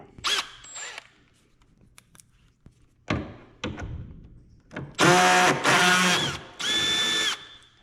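A power drill fitted with a 10mm socket backs screws out of a headlight assembly on a 2017-or-newer Chrysler Pacifica, short whirring bursts separated by clicks and clunks, ending in two longer close, loud spins.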